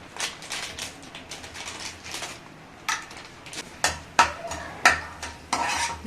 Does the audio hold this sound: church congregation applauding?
no